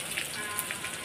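Onions and garlic sizzling in hot oil with nigella seeds: a continuous, fine crackling hiss with scattered small pops, close and steady.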